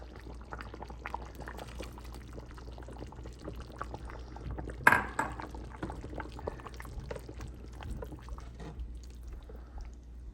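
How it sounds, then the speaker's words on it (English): Beans tipped into a simmering pot of carne en su jugo with mushroom and TVP, with a brief pour and splash at the midpoint over soft bubbling and small drips, close, no talking. "Now I'm gonna add the beans."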